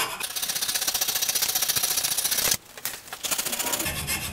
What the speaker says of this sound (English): I'm hoping to be able to scrape down and find a name stamped into the handle.